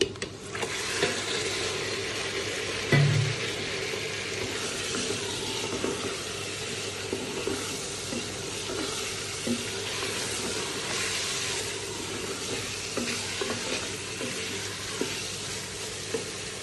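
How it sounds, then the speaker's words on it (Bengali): Fish frying in a pan of masala with a Bombay chili while being stirred: a steady, dense sizzle runs throughout, with a few soft scrapes and knocks. Close and continuous. "এখন আমি মাছ দিয়ে দিব"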